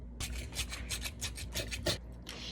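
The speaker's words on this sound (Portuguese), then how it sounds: "Agora eu vou lixar." A handmade craft piece is sanded by hand with rapid, rhythmic rasping strokes, about a dozen close, steady scrapes with no talking.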